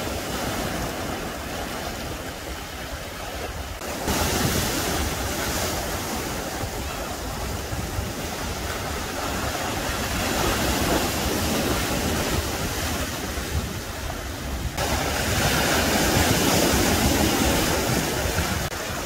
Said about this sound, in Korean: 파도는 오늘 투망치기 좋은 파도입니다.